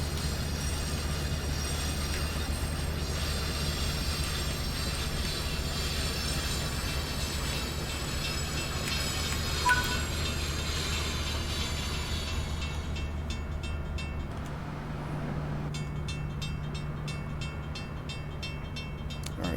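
A train in Train Sim World 3 rumbles steadily as it reverses, a continuous low drone with faint rail noise and a brief click midway, the tone dropping and changing near the end, no speech.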